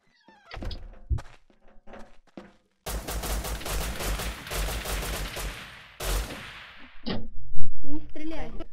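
Gunfire crackles in the online shooter Rust during a 12 vs 12 match, with sharp shots, a long dense burst and scattered thuds, partly among voices.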